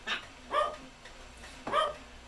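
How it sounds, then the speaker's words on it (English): A dog barks up close at a delivery arriving, three sharp, separate barks over a low steady indoor hum. "That would be our dog, Charlie."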